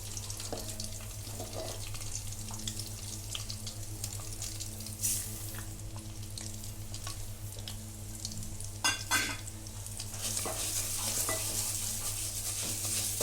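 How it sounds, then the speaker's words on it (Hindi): Broken wheat (dalia) dry-roasting in a pan over a low flame for sweet Sindhi-style porridge, a steady soft sizzle with scraping stir strokes, a couple of sharper clatters and a brief splash of running water near the end. "अब इसमें मैं ये दलिया डालूंगी, और दलिये को हम कम से कम 10 मिनट तक बिल्कुल स्लो फ्लेम पर इसको पिंक होने तक हम भूंजेंगे।"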